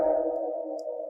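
Sustained vocal note washed in a cathedral-style reverb, a big diffuse wash held steady and fairly loud for about a second with no other sounds.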